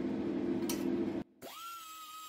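A die grinder with fine 320 and 600 grit abrasive works a piece of cutlery metal. A steady close grinding whir runs, cuts out abruptly, then the tool spins back up to a high, even whine.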